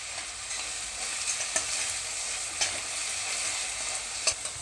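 A masala of onion, green chilli and ginger for Kerala-style fish pollichathu fries in a pan with a loud, continuous close sizzle. Occasional stirring clicks punctuate it, and no one talks.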